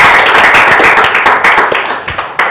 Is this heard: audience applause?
yes